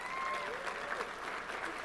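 A keynote audience at a gaming convention breaks into applause, a sustained wash of clapping at moderate distance with some cheers mixed in.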